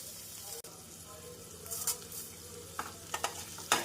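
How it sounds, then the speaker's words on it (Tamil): Sliced onions with coarse rock salt sizzle softly in a pan for a spicy brinjal curry, with a steady low frying hiss broken by a few sharp stirring scrapes and clinks of a spoon near the end. "நாம் உப்பு சேர்ப்பதால் வெங்காயம் விரைவாக வதங்கி வந்துவிடும்."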